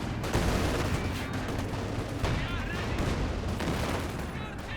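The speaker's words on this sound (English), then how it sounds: "they command a heavy fire from the field guns" Field guns fire in a Company of Heroes 2 battle, a dense, continuous barrage of loud gunshots and heavy booms, with several sharper blasts standing out from the steady roar of combat.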